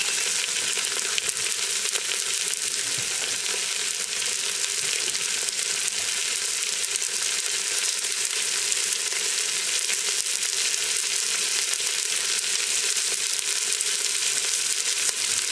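Food browning in a hot pan, a loud, continuous close sizzle and crackle with faint stirring, holding steady throughout with no voices.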